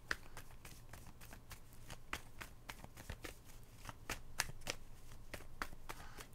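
Tarot cards being shuffled and drawn during a reading, a steady run of soft riffling flicks and card snaps repeating close by for several seconds with no talking.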